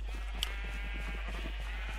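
A Minecraft sheep gives a clear bleat, followed by faint game ambience and quiet background sounds over a steady low hum.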